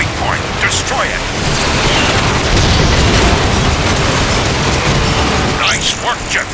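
A loud explosion booms in the Transformers: Fall of Cybertron video game, a rocket launcher blast striking a weak point, with dense rumbling battle noise spread across the whole stretch and a voice talking over it.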